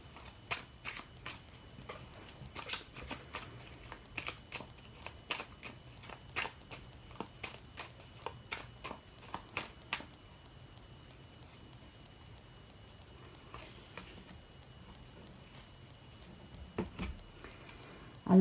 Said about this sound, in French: je vais tirer une carte du tarot